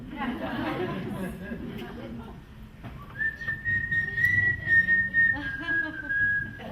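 A long, steady whistled tone with a few pitch shifts, clear and close, following a stretch of crowd chatter and movement.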